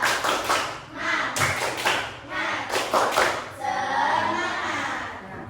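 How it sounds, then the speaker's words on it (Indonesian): A primary school class performs a rhythmic spirit clap, sharp grouped claps in a patterned beat with children's voices chanting along, close and lively. "Tepuk semangat"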